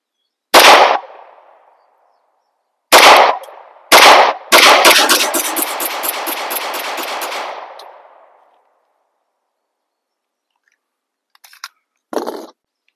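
A Beretta Cougar 8000F pistol fires several loud, sharp shots a second or two apart, then a rapid string of rounds with a lingering echo, and a faint, brief shot after a pause.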